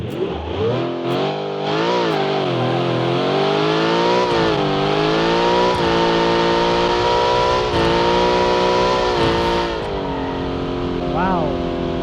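Simulated car engine in the Automation driving game revving hard and climbing through gears, a loud continuous rising whine with pitch drops at each shift, steady and close throughout.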